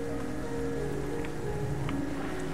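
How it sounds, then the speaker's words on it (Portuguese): Heavy rain falls in a continuous dense hiss with a steady low rumble beneath, unbroken and fairly loud, with a few faint drips on top. "Chuvarada isso aqui, não para de chover"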